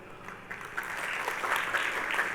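Church congregation clapping during a sermon, a steady diffuse patter of many hands that swells slightly over a couple of seconds, with a faint voice underneath.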